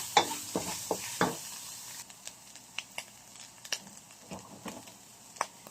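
Seasoned lumpia filling being stirred in a pan, a quiet sizzle with intermittent light spatula taps and scrapes scattered through, fairly faint and close, without speech.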